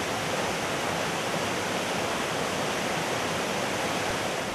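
The most famous waterfall in Transcarpathia roars as a dense, steady wash of rushing water, loud and unbroken, with no voices over it.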